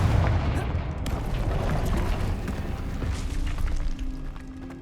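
A Confringo blasting spell bursting in Hogwarts Legacy, a dense rumbling boom with crackling debris sustained across the clip, loud and close, with no one talking.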